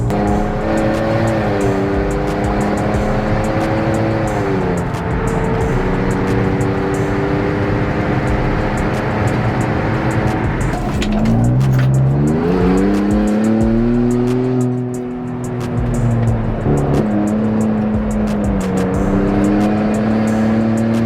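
A 2022 Ford Bronco fitted with a Whipple Tomahawk supercharger roars through burnouts, its loud engine revving up and down in sustained surges while the tires squeal continuously and close by.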